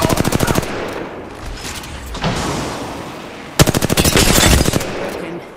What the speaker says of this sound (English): Spotted me. I'm taking shots.